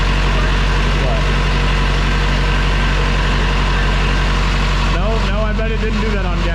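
Diesel truck engine running on gasoline, a loud steady low rumbling idle that fills the whole stretch, with people talking over it near the end.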